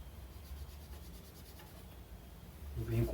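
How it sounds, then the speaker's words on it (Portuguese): Guitar frets are polished with polishing paste, a soft, continuous rubbing and scrubbing at close range that grows louder near the end. "agora eu posso dar um polimento aqui nesses trastes"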